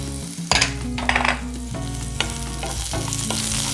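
Garlic and green chilli dropped into hot oil for paneer manchurian sauce burst into a loud crackling sizzle, followed by repeated stirring scrapes over a continuous fry, with no voices.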